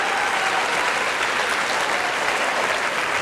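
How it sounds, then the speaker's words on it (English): A community event audience breaks into sustained, even applause, a dense wash of many hands clapping steadily for a few seconds with no voices rising above it. "I want to give a round of applause to Margot."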